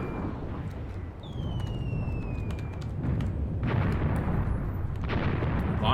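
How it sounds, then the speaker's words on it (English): Artillery shells and smoke rounds landing in the wartime tactics game Graviteam Tactics: Mius Front, with rumbling booms and crackling impacts rolling continuously at a middle distance, growing somewhat heavier toward the end. "A lot of smoke dropped there, a lot of artillery dropped there"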